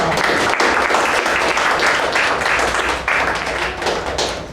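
Steady applause from a crowd, dense clapping that carries on without pause throughout.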